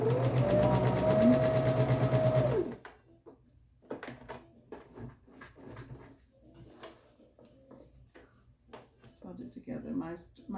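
Sewing machine running a short stitch across the top of a garment lining, with a loud, steady mechanical whir for about two and a half seconds, then someone talks over soft handling sounds.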